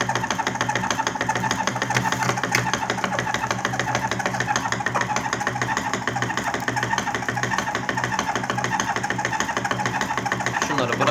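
Electric tobacco rolling machine filling cigarettes with a mixed shredded and powdered Adıyaman tobacco, giving a steady mechanical whirring and rhythmic clatter that runs loud and continuous throughout, with a voice faintly beneath.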